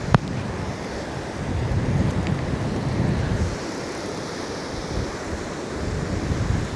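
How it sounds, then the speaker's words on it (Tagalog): Sea waves roll and wash continuously at Estancia Beach in Pangasinan, a broad, steady surf roar mixed with heavy wind buffeting the microphone and no voices. "So ito yung dagat dito."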